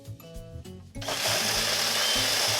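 A mixer grinder blends blueberries into idli and dosa batter, starting after about a second of lighter mechanical humming, then a loud, close, steady whirring grind to the end.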